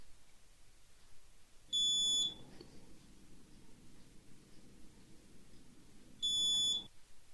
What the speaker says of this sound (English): it will open the lock with a beep sound